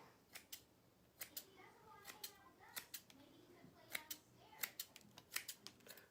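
Scissors trim stray sprigs on a craft piece, as if cutting hair: a steady run of crisp, close snips in an irregular rhythm, about twenty sharp cuts with short pauses between them.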